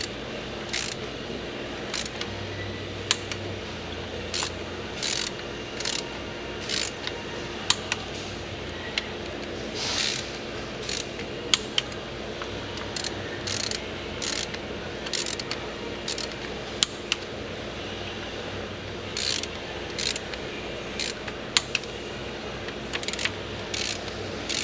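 Bolts on a Genesis GV80 are tightened one after another in a crisscross pattern, giving a long run of sharp mechanical ratchet clicks and metallic ticks over a steady background, fairly close and with no talking.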